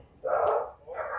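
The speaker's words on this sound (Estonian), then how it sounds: "Mu koer karjub." A dog barks twice, close and fairly loud, beside a greenhouse where tomatoes are being planted: a long first bark and then a shorter second one.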